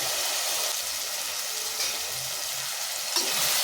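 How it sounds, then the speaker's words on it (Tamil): Tomatoes sizzle as they sauté in a pan for kadamba squid thokku, a steady close frying hiss with a couple of faint stirring knocks near the end. "நல்லா தக்காளி வதங்கி வருது."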